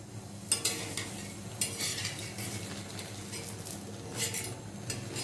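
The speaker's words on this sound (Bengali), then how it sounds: "এবার আমি তাইটার মধ্যে দিয়ে দেবো এগ রোলটা, রুটিটা।" An egg roll flatbread fries in oil in a hot pan, giving a steady soft sizzle with a few sharp utensil clinks and scrapes scattered over it, close up and with no talking.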